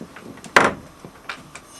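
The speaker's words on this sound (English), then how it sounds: "Then when I open the door again" A door in a garden opens with a single sharp wooden clunk, close by, followed by a few faint softer knocks and rustles.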